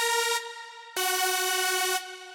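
Bright synth lead patch from a VPS Avenger preset, sustained buzzy tones with rich harmonics, one note held then a lower note struck and sustained, alone and fairly loud.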